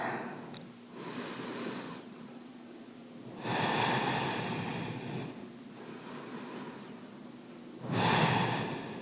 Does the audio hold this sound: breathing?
yes